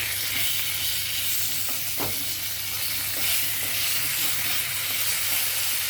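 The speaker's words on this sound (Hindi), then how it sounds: "अब इसकी रॉ स्मेल जाने तक हम इसे भूनेंगे।" Chopped onion and garlic fry in a pan for shahi paneer, a loud, continuous hissing sizzle close by, with a brief stirring scrape partway through and no talking.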